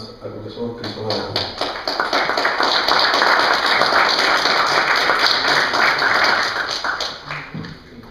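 Audience applause for a professor at a Spanish book presentation of "Batallas por la legitimidad", a dense sustained clapping from a room of people that swells after the first second and holds steady before tapering near the end, with faint voices underneath.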